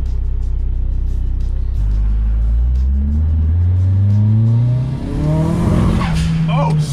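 A car with a fully built SR20 engine runs on a test run, idling loudly up close before revving repeatedly with rising, falling pitch sweeps, then a brief dip and a higher rev at the end.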